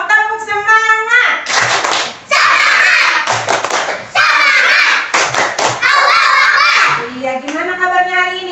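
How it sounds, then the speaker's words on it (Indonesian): Second-grade pupils at an Islamic primary school in Indonesia perform the tepuk semangat clapping chant, loud rhythmic bursts of claps mixed with children's chanting voices, between a teacher's spoken prompts. "Coba tepuk semangat dulu dong."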